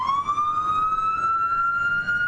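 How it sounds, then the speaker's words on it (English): A South Omaha fire engine siren wails with a steady rising tone, loud and close, heard alone without talk. "South Omaha fire engine."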